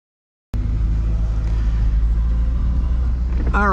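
A C8 Corvette engine bursts in after a moment of silence and holds a loud, steady full-throttle roar with deep rumble, then rises in pitch near the end.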